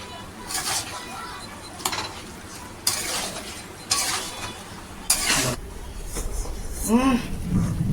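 Spice masala being stirred and sautéed in a pan, with repeated scraping and clinking strokes of a utensil against metal at irregular intervals, close by, under a person talking.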